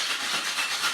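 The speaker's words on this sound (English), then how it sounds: "And then we shake hard end to end." Ice and strawberries rattle and hiss inside a Boston tin cocktail shaker shaken hard end to end, a dense, continuous close-up wash of noise.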